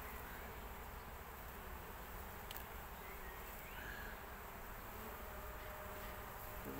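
Honey bees, including Italian bees, buzzing around an open hive during a colony check after bad weather, a faint, steady, dense hum that holds constant throughout.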